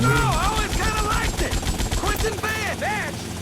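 Rapid gunfire rattles in bursts during a mission in GTA Vice City, loud and dense, with a voice talking over the shooting throughout.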